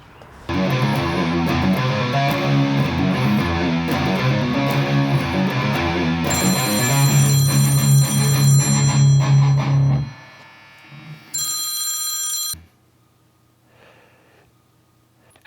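An outgoing phone call rings on the line during a camper build, with a repeating electronic ringback melody that stops abruptly, then a brief, shrill tone burst before silence.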